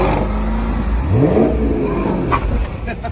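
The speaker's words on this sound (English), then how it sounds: "Rev it up one more time." At a car show, a car engine revs up in a rising, loud, close roar that swells and then settles back toward idle, with people talking faintly around it.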